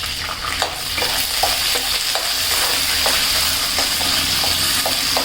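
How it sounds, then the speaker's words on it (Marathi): Green peas frying in a pan over high heat, a loud continuous sizzle with a low hum, cut by repeated light scrapes and taps of a spatula, with no one talking. "आणि आता मटार घालून घ्यायचे."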